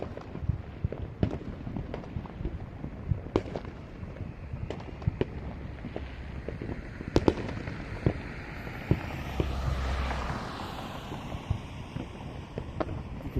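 Scattered sharp bangs of city-wide fireworks pop at varied distances over a steady wind-like rumble, with a louder crackling swell building near the middle, during a large celebration show.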